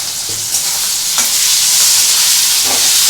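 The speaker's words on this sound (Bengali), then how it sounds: "টমেটোগুলো এর মধ্যে দিয়ে দেবো।" Chopped tomatoes hitting hot fried onions in a pan for a Bengali ridge gourd, potato and poppy seed curry, giving a steady loud sizzle throughout with a few stirring scrapes.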